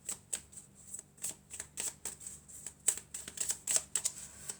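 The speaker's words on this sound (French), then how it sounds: "alors on va mélanger encore" Oracle cards being shuffled close up, with quick repeated riffling and flicking bursts in an uneven rhythm, quiet and free of talk.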